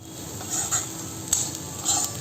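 Bitter gourd curry with peanut powder being stirred in a pan, a few soft scrapes and light metallic clinks of a spoon over a low steady background, close by and without talk.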